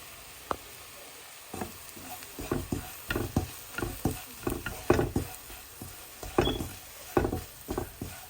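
Chopped dried chilies and nigella seeds frying in oil are stirred in a pan, with a soft sizzle under a series of irregular scraping strokes from the spoon, close and fairly quiet.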